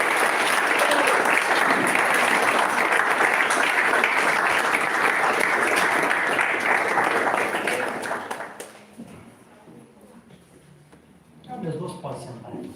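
Church congregation applauding loudly and steadily during an evening communion service, the dense clapping fading out after about eight seconds, followed by quieter talk and a brief swell of voices.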